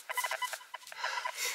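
Metal detector tones while searching a lake beach after the season, a string of short electronic beeps close to the ear, then a longer warbling signal tone, without speech.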